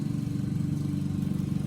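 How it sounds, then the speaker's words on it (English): A lawn mower engine drones steadily in the background, a continuous low throbbing hum with a fast regular pulse, holding constant loudness from start to finish. "stupid lawnmower in the background"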